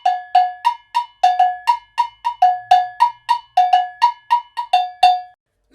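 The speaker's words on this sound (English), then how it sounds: "it's a Brazilian cowbell. So in this instrument, you're gonna have two notes: a low note and a high note." Agogo, the Brazilian double cowbell, struck in a brisk rhythm that alternates its low and high notes, with bright metallic clanks ringing close and loud, no voices.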